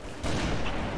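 A sniper rifle shot in a Team Snipers match of a multiplayer shooter game lands as one sharp blast followed by a sustained rumbling tail, close and fairly loud.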